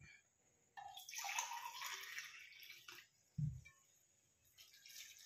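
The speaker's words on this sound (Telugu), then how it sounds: "ఇవి గోరువెచ్చని వాటర్." Lukewarm water pours into rose cake batter in a brief splashy stream lasting about two seconds, followed by a dull thump and a softer trickle.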